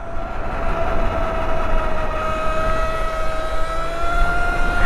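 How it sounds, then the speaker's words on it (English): Burrowmax HRS electric pit bike with a 52-volt battery, heard riding as a steady loud motor whine with two sustained pitched tones over continuous wind and road rumble, no talking. "They know you're on a different type of e-bike because it's way too loud."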